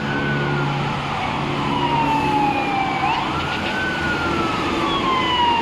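A fire truck siren wails nearby at a fire along EDSA in Quezon City, its pitch sweeping down and then back up over a steady background of traffic noise.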